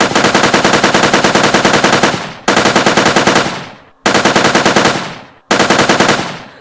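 A placeholder weapon in a Unity game fires four loud bursts of rapid automatic gunfire, each cut off abruptly by a very fast reload before the next burst begins.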